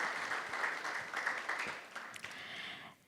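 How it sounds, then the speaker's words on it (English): An audience at a women in construction conference claps for a speaker: faint, distant-sounding applause that lasts a few seconds and dies away at the end. "a round of applause for Shuruk"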